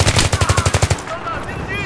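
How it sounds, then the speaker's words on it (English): Machine gun fire in Battlefield 3 rattles out as a rapid, evenly spaced burst of about a dozen loud shots, then cuts off into the game's ambient noise. "We're spotting the machine gun on your area."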